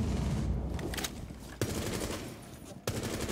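Rapid gunfire in a tactical shooter game fires continuously throughout, a dense burst with sharp sudden cracks standing out at two moments, loud and close with no voices.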